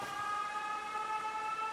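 Siren inside the video game 13 Sentinels: Aegis Rim, a steady wailing tone that holds evenly throughout at a moderate distance, with no talking over it.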